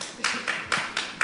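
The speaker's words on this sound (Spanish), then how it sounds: "te aplaudo" A single person claps five times in an even, unhurried rhythm during a conversation, each clap sharp and close against a quiet background.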